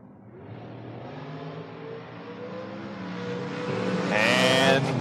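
A Nova and a dragster launch side by side at a drag race: close, steady engine roar that swells and climbs into a loud, high-pitched howl near the end.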